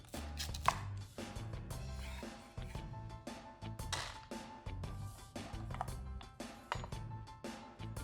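Knife chopping French green beans diagonally into sections on a cutting board, a rapid regular series of close, crisp taps with no talk.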